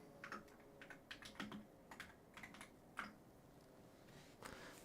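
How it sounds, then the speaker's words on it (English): Keys clatter on a computer keyboard during a live stream, a steady run of light clicks and taps at close range with no talk over them. "This damn keyboard."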